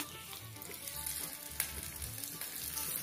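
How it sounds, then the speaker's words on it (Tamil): Hot tempering with curry leaves poured into coconut chutney, giving a continuous faint crackling sizzle with a few sharper pops, close and quiet, with no voices. "இப்ப நம்ம தேங்காய் சட்னியில இந்த தாளிப்பை கொட்டிடலாம்"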